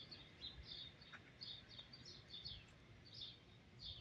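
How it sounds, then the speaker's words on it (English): Small birds chirp in quick, repeated high tweets, somewhat distant and soft against a quiet outdoor background. "listening to the birds chirping"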